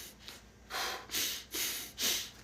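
Abdominal breathing, belly-driven breaths drawn and released through the nose: four strong airy breaths in a slow, even rhythm, close and loud, with no talk.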